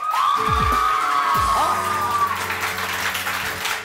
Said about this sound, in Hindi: लेकिन तालियां बजानी है